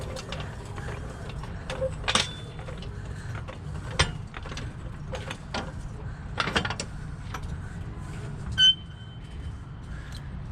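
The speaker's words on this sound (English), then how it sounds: "So we need to jack this thing up a little bit." A car jack ratcheting under a 2007–2014 Escalade, Tahoe or Yukon SUV during a front sway bar link replacement, with scattered metallic clicks and clanks over a low steady hum, one sharper knock near the end.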